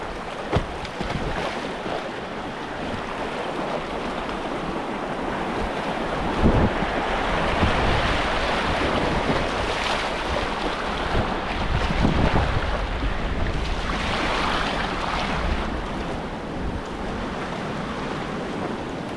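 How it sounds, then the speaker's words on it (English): A kayak running a river rapid in cold weather, with rushing, churning water and heavy wind buffeting the microphone, loud and continuous with surging bursts of splashing, and no speech. "this is probably the funniest rapid on the whole river"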